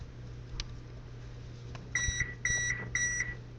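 An oven preheated for a homemade apple pie gives three short, clear electronic beeps in an even rhythm over a low kitchen hum.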